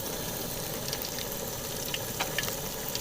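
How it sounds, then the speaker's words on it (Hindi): Potato snacks frying in hot oil in a kadhai, a steady close crackling sizzle with scattered sharper pops, alone without voices. "और हम इसको अब फ्राई कर लेते हैं।"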